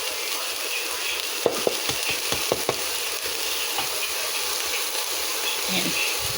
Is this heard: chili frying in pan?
yes